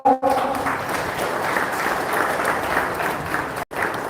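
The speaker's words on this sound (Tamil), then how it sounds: "நல்ல கரகோஷம் கொடுக்கலாம் எல்லாரும்" Crowd applause at a postage stamp release ceremony during an RTI training class in Courtallam, a steady wash of many hands clapping with a brief cutoff near the end before it resumes.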